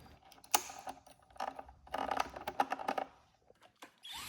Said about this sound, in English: Now we can reconnect the battery connector.